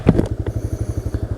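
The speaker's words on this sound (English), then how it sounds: "Listen to the exhaust." A TVS Raider 125cc motorcycle's exhaust, recorded from inside a closed full-face helmet, thumps in a steady, fast idle-like pulse, loud and close with a throaty low rumble.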